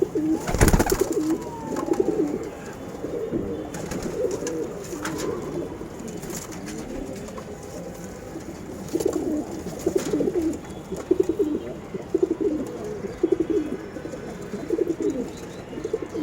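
Pigeons kept for sale in Dhaka coo repeatedly in soft, throaty bursts at close to moderate distance, with a sharp clatter at the start and light rustling between calls.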